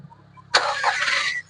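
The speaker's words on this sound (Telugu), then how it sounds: "సింగిల్ సెల్ఫ్ అయితే బండి స్టార్ట్ అవ్వడం జరుగుతుంది సార్" A 2010 Volkswagen Polo Comfortline with a 1.2 petrol engine fires up on a single crank: a sudden close burst that holds for about a second and then drops away, with no talk.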